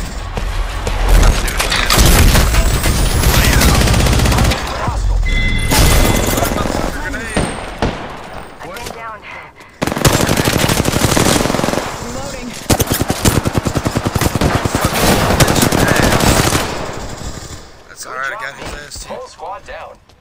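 Rapid automatic gunfire in the battle royale shooter Apex Legends, loud dense bursts in two long stretches broken by brief pauses, with a player talking over the shooting.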